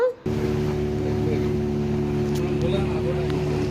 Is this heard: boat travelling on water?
yes